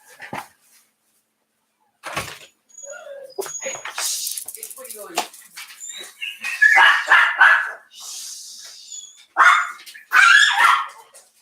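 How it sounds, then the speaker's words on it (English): Several dogs bark and yip excitedly outside in irregular bursts, some sharp and loud, some whining, with gaps of quiet between the flurries. "my dogs are going crazy right now"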